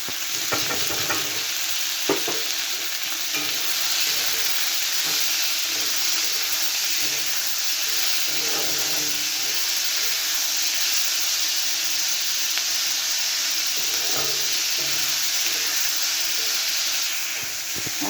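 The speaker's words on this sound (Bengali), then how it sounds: "টমেটোটা নাড়াচাড়া করে এখন দিয়ে দিচ্ছি হলুদ আর নুন।" Tomato frying and sizzling in a pan with turmeric and salt being added, a steady loud hiss throughout with occasional soft scrapes of stirring, no voices.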